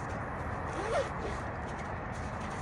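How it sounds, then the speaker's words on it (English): A VIKTOS sling pack zipper is pulled once in a brief, quiet rasp near the middle, set against a soft steady background hiss with little else happening. "Dual zippers on everything."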